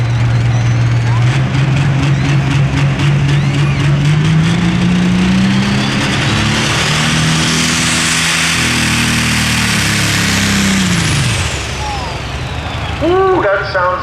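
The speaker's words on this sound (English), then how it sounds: "Ooh, that sounds like a turbocharger issue, doesn't it?" A modified pulling tractor at a Lucas Oil East Coast Series event in Kempton roars loudly under load with a turbocharger problem, its pitch rising and wavering and then dropping away, while an announcer talks over it.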